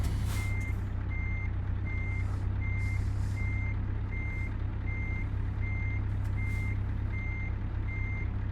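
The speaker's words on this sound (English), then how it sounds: "Okay, we're gonna lower the suspension." A big rig's air suspension is lowered in a truck simulator game. Short bursts of hissing air come over a steady idling engine drone, while a warning tone beeps at an even, regular pace throughout.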